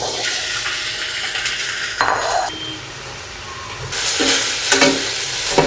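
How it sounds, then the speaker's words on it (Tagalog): Pork pours into hot oil left in a pan from frying tofu, setting off a loud, steady sizzle with bursts of splatter and stirring scrapes. The noise drops for a moment and then flares up again. "Buhos ko na po ang karne."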